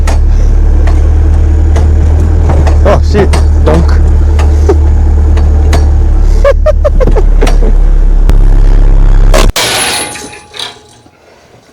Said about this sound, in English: At least the engine's running.